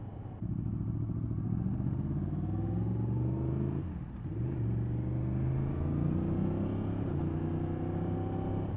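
A Yamaha MT-10 motorcycle engine pulls hard through the gears, its rising roar broken by quick, clean quickshifter changes, loud and close, with no talk.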